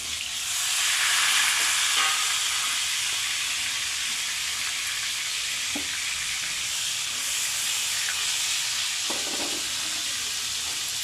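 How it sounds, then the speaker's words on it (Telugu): Tomatoes frying in oil give a loud, continuous hiss and sizzle, close by and steady throughout, with a few faint clinks from stirring and no talking. "టమాటా పండ్లు కూడా మనం వేయించుకున్నామండి"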